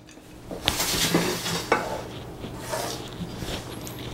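Casserole base of ground beef, onions and bacon mixed in a dish for a low carb bacon cheeseburger casserole, with soft scraping and a few clinks of a utensil against the dish, close but fairly quiet.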